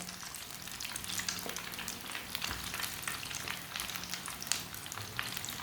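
Moong dal tikki fry in oil in a pan, a dense, even crackling sizzle that holds steady and close for the whole stretch.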